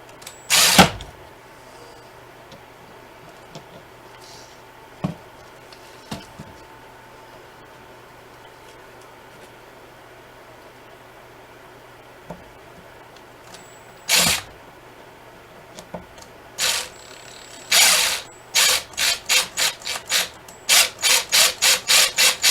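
Screws being driven into a furring strip on a truck bed toolbox lid: scattered clicks and short bursts early on, then a rapid run of sharp, evenly spaced ratcheting pulses near the end, close by with no talking.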